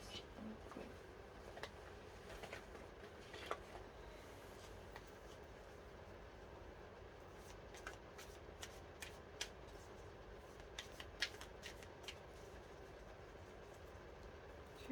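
Tarot cards shuffled by hand in repeated quick riffling bursts and soft slaps, close and fairly quiet, with a low steady background hum underneath.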